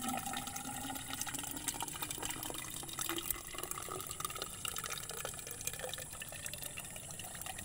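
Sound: water being poured to fill a spring hole for rice paddy irrigation

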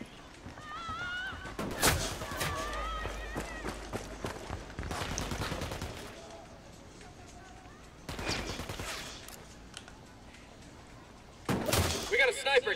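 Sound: gunfire in the video game Ghost Recon Wildlands

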